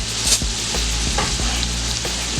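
Minced garlic hits browned sausage in a Power Pressure Cooker XL, giving a loud, steady close-up sizzle with frying crackle and a few stirring scrapes, no voices.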